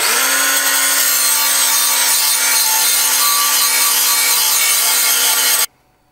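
A Smith's cordless electric sharpener grinds a Cold Steel shovel freehand, making a loud, steady, close abrasive whine with a constant tone that stops abruptly near the end.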